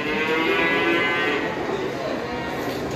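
A Simmental cross beef cow moos loudly and close by, one long sustained low bellow that fills the whole moment.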